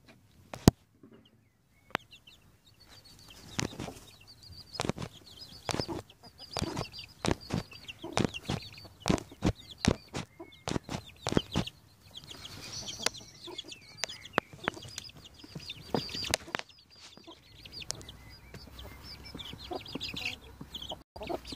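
A bantam hen clucks among her month-old chicks as they jostle under her wing, with repeated soft clucks and high chick peeps, some sharp taps and rustles, close and fairly quiet.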